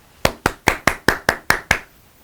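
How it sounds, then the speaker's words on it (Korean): Eight crisp, evenly spaced hand claps close by, a measured rhythmic clapping of thanks during a surgical alumni association news segment from Seoul National University Hospital, ending in a brief quiet. "그동안 동문회 뉴스를 위해 헌신해주신 이응직, 박정현 동문에게 감사의 박수를 전합니다."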